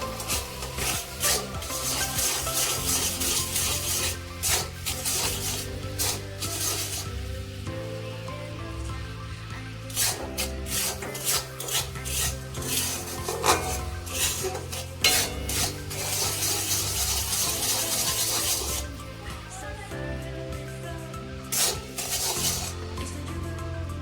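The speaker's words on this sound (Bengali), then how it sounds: "এটা কিছুক্ষণ নাড়াচাড়া করব, চিটটা না ধরা অবধি" Jaggery stirred and scraped in a wok while making flattened-rice sweet balls, a long run of close, gritty scraping and rubbing strokes over a dense hiss, with occasional metallic knocks.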